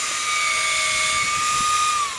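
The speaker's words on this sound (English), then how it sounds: "we remove that bark and drill it" A power drill whines steadily while boring an 11/64 inch hole into debarked wood, a continuous high-pitched motor tone close by that winds down at the end.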